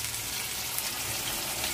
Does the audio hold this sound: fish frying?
yes